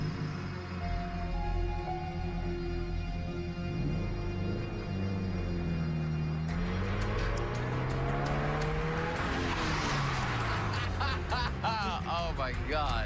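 A stunt driver steers a car close past a match to strike it; the engine whines and revs with shifting pitch, rising into a near, loud pass with tire noise, while voices talk over it.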